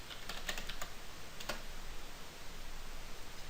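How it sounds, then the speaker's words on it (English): Keys clicking on a computer keyboard as a single word is typed into a nurse training order-entry system, a short burst of light taps followed by a faint steady hiss. "If you type in the word stroke"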